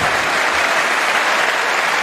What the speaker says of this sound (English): Roy Vicky claps on